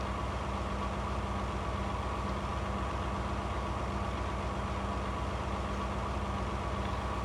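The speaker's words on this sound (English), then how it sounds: "That is the manure spreader ultimate." A manure spreader vehicle in Farming Simulator 19 runs its engine in a steady, unbroken low drone, close and even throughout, with no voices over it.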